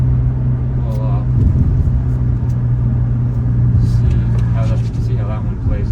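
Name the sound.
Hyundai Elantra N engine and exhaust while cornering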